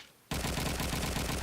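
Dense, loud automatic gunfire from Call of Duty 2 on the Dawnville map bursts in suddenly after a brief quiet moment, then continues as rapid, overlapping shots at steady intensity.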